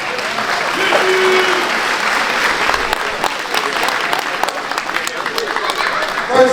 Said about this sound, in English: let me give a big round of applause for Mr. Jimmy Rogers.